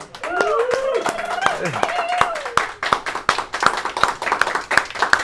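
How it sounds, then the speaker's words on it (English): A small group claps in quick, uneven rhythm, sharp close handclaps continuing throughout while a person speaks over the start. "everybody give a round of applause for all those people"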